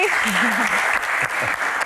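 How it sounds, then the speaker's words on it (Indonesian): Audience applause at a Q&A stage event, brief steady clapping heard under a voice that speaks over the start of it. "tepuk tangan sekali lagi"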